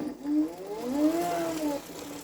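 A cheap 350 W BLDC motor on a regenerative-braking board whines rough and uneven, with wavering, rising-and-falling tones over about two seconds and no talking.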